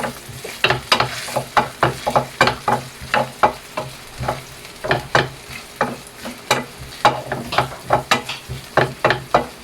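Onions sauté in a pan for Filipino menudo, loud and close, as a spatula strikes and scrapes in a quick, regular rhythm over a constant frying hiss.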